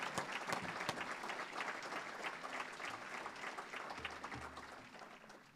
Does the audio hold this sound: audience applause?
yes